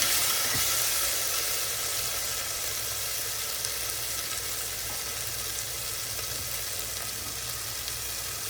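Ginger garlic paste frying in a hot pan while cooking moong dal khichdi at home, a steady, even sizzle and hiss that carries on without pause and with no talking.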